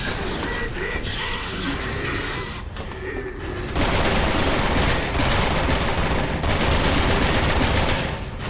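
Sustained gunfire in the video game Resident Evil 6, dense loud bursts of shots running continuously, growing heavier and more relentless midway, with no talk over it.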